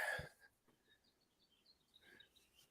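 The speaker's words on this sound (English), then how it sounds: "It's crazy hearing birds over here because they're just like the bird right here." Birds chirp outdoors, faint and distant: a scattering of short, high tweets spread through a quiet stretch, after a brief breathy snort or sneeze at the start.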